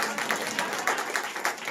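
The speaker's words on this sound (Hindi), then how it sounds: "तालीम सब बजा दीजिए।" Congregation applauding at a Christian worship service, a steady wash of clapping from a crowd lasting under two seconds with no voices over it.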